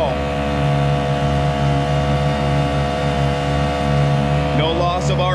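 A Honda 5 outboard motor with a stainless steel two-blade prop running wide open on a Nucanoe Pursuit, a loud, steady high-revving drone close by throughout, with a voice starting near the end.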